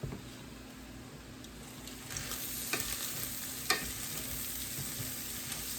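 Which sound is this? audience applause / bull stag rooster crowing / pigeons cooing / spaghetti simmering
spaghetti simmering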